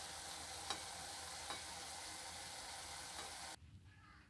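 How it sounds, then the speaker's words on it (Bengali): Sugar syrup for boondi boils in a pan with a steady, close bubbling hiss, marked by a couple of soft knocks, before the sound cuts off abruptly near the end. "এবার আমরা রসে একটু ভালো করে ফুটিয়ে নেবো"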